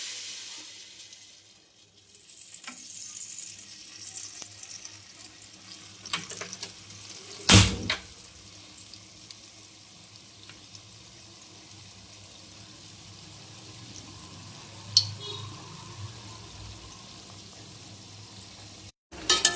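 Mango and semolina malpua batter fries in hot oil with a steady, soft sizzle. A sharp clatter of a utensil breaks in midway, and a few fainter knocks come later.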